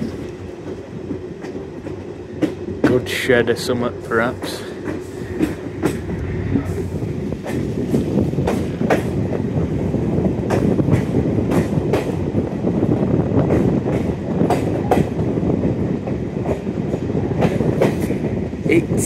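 A diesel multiple unit train runs steadily along the rails on a heritage line, its engine rumble and the rhythmic clickety-clack of the wheels continuous throughout, with someone briefly speaking over the noise.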